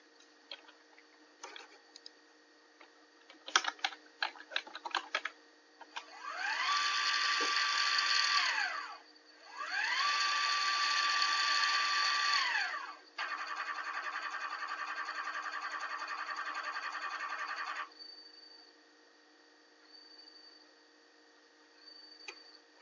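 An AC servo motor steps through programmed moves forward and reverse up to about 5,000 RPM, with quick ticking bursts followed by three sustained whines that ramp up and down, the last held steady before stopping.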